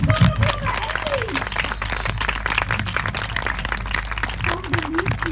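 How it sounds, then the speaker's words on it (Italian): Audience applause for a show of puppets from Mangiafuoco's cart, a steady wash of clapping from a crowd, heard under someone speaking over the crowd's noise throughout. "faccio fare da questa brava gente un applauso a questi bellissimi burattini."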